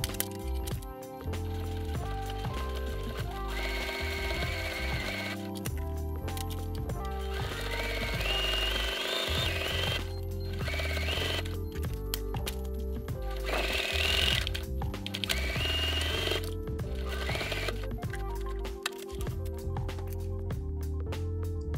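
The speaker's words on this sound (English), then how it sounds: "Now we're heading back to the sewing machine and sewing the open edge all around the wristlet." Sewing machine running in bursts to stitch the open edge all around a fabric wristlet key fob at a quarter-inch seam, a rapid mechanical whirr that stops and starts with short pauses, close and loud.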